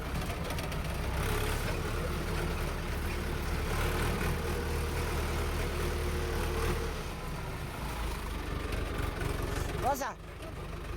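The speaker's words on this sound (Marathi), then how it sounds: "मग आता ट्रॅक्टर वळून घेतो" A tractor engine idles during a pearl millet harvest with a steady low rumble throughout, people talking over it, and a brief clunk near the end.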